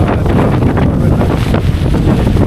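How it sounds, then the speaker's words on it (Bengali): Loud, steady storm wind roars and buffets the microphone with no break, a dense low rush that carries on for the whole few seconds. "পরিমাণ বাতাসটা হইতেছে এখানে"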